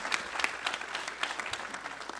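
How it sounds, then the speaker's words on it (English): An audience at a signing-day event gives a round of applause for new hires. The clapping is dense and brisk, mid-distance, and runs throughout with no break. "another round of applause for Network 2."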